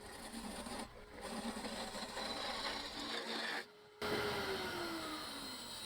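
Turning tool cutting a tiny wooden bowl turned from a corner offcut on a wood lathe, giving a steady close scraping, rasping hiss with two brief pauses where the cut stops and restarts.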